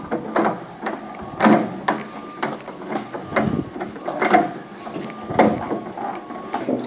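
Small Phillips head screws are driven down to fasten a humidity control on a Santa Fe Classic unit, giving close, repeated ratcheting clicks and scraping turns in an irregular rhythm.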